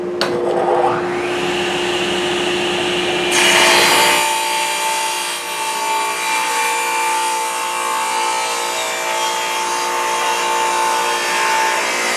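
A table saw rips through wood with the beveled edge held against the fence, giving a loud, steady whine and cutting roar that surges near the start, then settles into a sustained, slightly lower motor drone.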